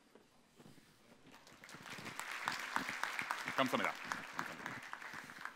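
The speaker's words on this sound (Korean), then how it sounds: "박수 부탁드립니다" Audience applause at an AWS Summit 2015 keynote in Korea as the presenter takes the stage, starting faintly and swelling into scattered clapping while someone speaks briefly over it.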